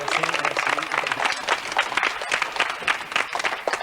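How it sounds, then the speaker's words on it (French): Studio audience applauding a doctor welcomed onto the set of a French children's TV show, with dense, steady clapping throughout and a voice briefly audible underneath. "On peut l'applaudir."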